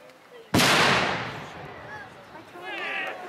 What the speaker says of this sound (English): Again, high up into the sky, a little bit higher this time for the bigger mortar.